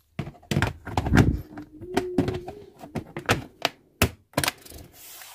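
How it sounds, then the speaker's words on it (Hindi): A battery is fitted into an opened laptop during an upgrade, producing close hollow plastic thunks, sliding clatter and sharp snapping clicks in an irregular sequence. "अब हम इसमें बैटरी को इंसर्ट करते हैं।"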